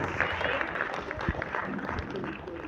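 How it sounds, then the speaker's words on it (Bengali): An audience claps for folk dancers at the close of a Bengali folk dance performance, a soft, steady patter of applause heard from some distance. "ওদের জন্য আরেকটা হাততালি, আরেকবার হোক"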